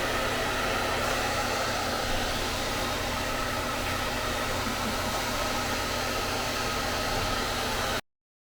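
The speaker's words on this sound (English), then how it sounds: "Sadie, you're gonna let me finish drying you?" A hair dryer blows steadily and loudly while drying Sadie, a pet dog after her bath, a constant broadband whoosh running unbroken for about eight seconds before cutting off abruptly.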